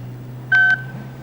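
Two short telephone keypad dialing tones sound in quick succession, clear and close, over a steady low hum with no talking.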